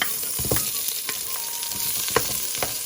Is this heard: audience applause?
no